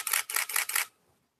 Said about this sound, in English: I would actually let you hear what the shutter sounds like. I'm going to try and fire off a burst here.